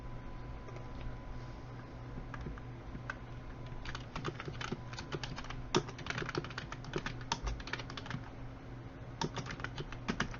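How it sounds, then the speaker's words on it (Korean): Quick, steady clicking of keys on a computer keyboard, fairly quiet and close, with irregular bursts of keystrokes over a faint room hum. "우리가 영문 대소문자 입력하기 위한 위에 있는 샘플을 또 한번 입력하면서 실습을 해보도록 하겠습니다"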